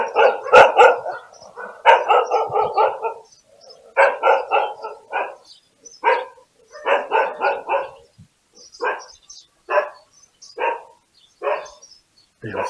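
Several dogs bark repeatedly in a residential street, loud and close, with clusters of overlapping barks at first that thin into single spaced barks.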